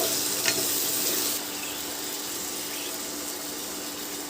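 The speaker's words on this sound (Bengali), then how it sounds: "আর চিনি মশলাগুলোকে ভালো করে আমি এবার কষে নেব মিশিয়ে" Spices fry with salt and sugar in a pan, giving a continuous soft sizzle and hiss with light stirring, close but moderately quiet, easing slightly partway through.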